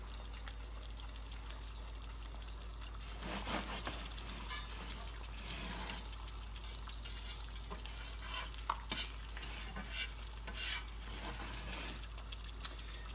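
An egg cooks in a Field Company cast iron skillet with a steady, quiet sizzle throughout, broken by a few scraping and tapping touches of a utensil against the pan.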